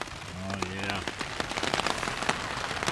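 Rain falls steadily on a backpacking campsite along a lakeshore, dense close patter with sharp drops hitting a surface, while a brief voice sounds near the start.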